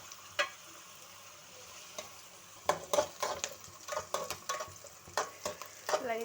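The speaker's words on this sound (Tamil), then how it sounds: "வெங்காயம் நல்லா கோல்டன் ப்ரௌன் வர வரைக்கும் வதக்கணும்." Chopped onions sauté in an oiled pan for egg rice, giving a soft, quiet sizzle broken by repeated scraping and clacking strokes of a stirring spoon that grow busier toward the end.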